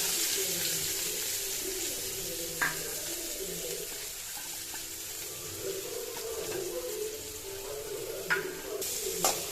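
Sliced onions sizzle in hot oil with cloves, a piece of cinnamon, cardamom pods and a bay leaf for a paneer gravy, giving a steady close hiss with occasional light scrapes and taps of a utensil.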